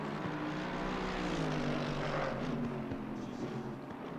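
A Nissan GT-R race car roars past on a circuit during a ten-hour endurance race, its loud continuous engine note rumbling like thunder and shifting in pitch as it goes by, with no talk over it.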